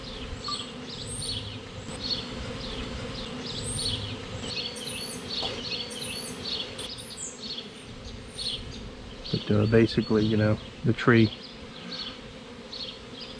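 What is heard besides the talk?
bees buzzing during bee tree removal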